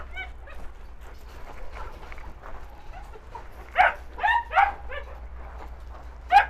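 Dogs bark in short bursts of sharp, fairly close barks and yips, with a low steady hum and faint talk between the barks.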